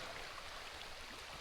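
A shallow stream runs at a low-water backpacking crossing in the Charles Deam Wilderness, giving a steady, quiet broadband rush of flowing water with no voices.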